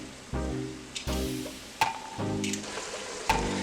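Garlic sizzles in a pan of bacon fat while beef bourguignon is being made, a close, crackling fry broken by a few low bumps and scrapes from stirring.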